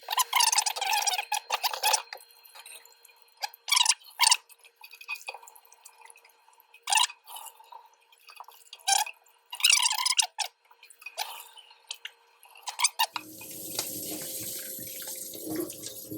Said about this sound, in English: make sure you wash your rice. Please, wash your rice.